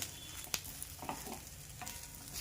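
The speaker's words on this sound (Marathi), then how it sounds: "आणि छान सर्व मसाले आणि भेंडी छान परतून घ्यायची आहे" Okra with spices fries quietly in oil, a faint sizzle broken by a few sharp clinks and stirring scrapes from the pan.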